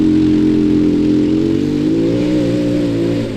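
A cheap mini jeep fitted with a swapped-in racing engine revs hard and loud, holding a steady, buzzing drone whose pitch wavers and climbs slightly without letting up, with no voices over it.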